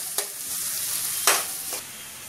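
Curry leaves hit hot oil in a quiet sizzle, with two or three sharp spitting bursts over a soft continuous hiss.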